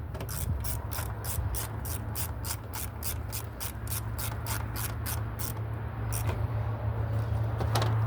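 A ratchet wrench clicks in a fast, even run of sharp strokes as it tightens a bolt on a 2013 Kia Optima during starter replacement, close up over a low steady hum, briefly pausing before resuming.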